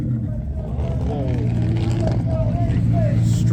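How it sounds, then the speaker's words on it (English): A Koenigsegg Agera with a straight-piped V8, in white and black Stormtrooper spec, rumbles loudly at a supercar show with a deep, steady low drone and rising revs, while people talk nearby. "Straight piped V8, man."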